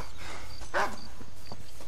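A single short dog bark from a dog named Charlie in Red Dead Redemption, rising clearly out of a low steady game background, with faint footfall-like taps around it.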